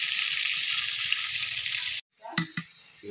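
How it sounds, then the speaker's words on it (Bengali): Potatoes frying in hot oil: a steady, loud hissing sizzle that cuts out abruptly, then returns with a few clattering stirs. "আলুগুলো ভেজে নেওয়া হচ্ছে তেলে"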